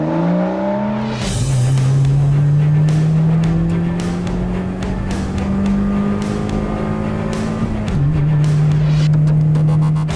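Carbon-fibre Roding Roadster exotic sports car driving hard on a mountain pass road, engine note loud and close, climbing through revs with sharp gear changes and brief tire noise.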